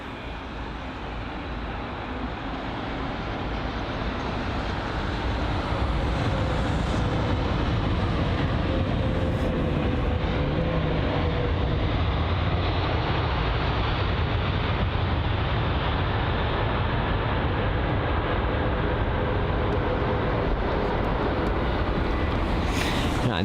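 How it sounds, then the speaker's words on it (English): A Virgin Atlantic 787-9 Dreamliner on final approach to London Heathrow runway 27R, heard as a steady, broad jet roar that swells slightly and then holds at a constant level outdoors. "Here's the Virgin Atlantic 787-9 Dreamliner. This is. On finals, runway 27 right this is."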